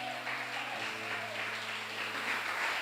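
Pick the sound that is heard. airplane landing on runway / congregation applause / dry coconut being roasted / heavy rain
congregation applause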